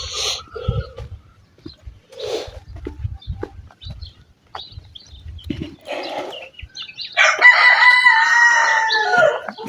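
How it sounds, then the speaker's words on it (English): Roosters crowing early in the morning at a rural home in Zambia, with a loud, drawn-out cock-a-doodle-doo near the end, preceded by scattered clucks and soft clatter. "You can hear the roosters."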